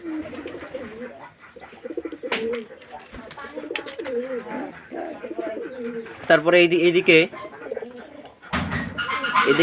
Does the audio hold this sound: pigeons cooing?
yes